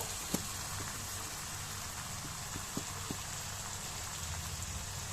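Onion and tomato sizzle in a frying pan with a soft, even crackle that runs throughout, broken by a few faint clicks and taps.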